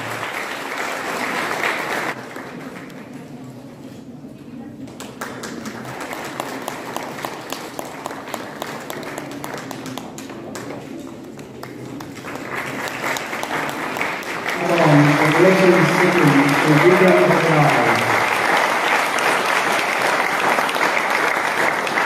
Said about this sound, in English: Big round of applause for Sri Vikram Bhattarai.